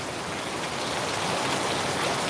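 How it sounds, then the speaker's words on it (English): Steady rain pours in Saigon, Vietnam, during the rainy season, a dense, even hiss of drops hitting surfaces nearby, unbroken throughout with no voices. "Another rainy day here"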